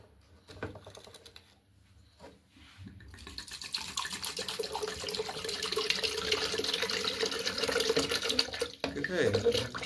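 Water pours and splashes steadily into a Kenwood blender jug, growing louder as it fills, with a few clicks and clatter before it starts.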